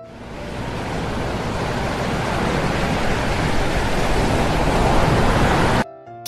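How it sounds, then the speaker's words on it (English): Ocean waves crash onto a wide beach, a loud, broad wash of surf that swells steadily for several seconds before cutting off abruptly. "Hear the waves crashing into the shore."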